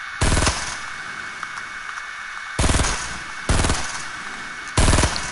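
Four heavy gunshot blasts from a video game shotgun, loud and close, spaced unevenly over a few seconds with a steady game ambience humming between them.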